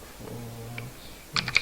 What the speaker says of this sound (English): you can do it while I'm typing the code